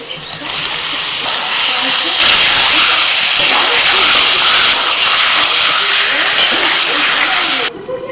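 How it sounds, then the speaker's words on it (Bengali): Loté fish dropped into hot, spice-laden oil in a pan, giving a loud, steady broadband sizzle and hiss that holds for about seven seconds before cutting off abruptly. "এবার আমি মাছগুলো দিয়ে দিচ্ছি"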